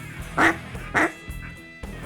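Ducks in flooded timber during an Arkansas waterfowl hunt quack in two loud, close calls about half a second apart, followed by fainter quacks and outdoor ambience.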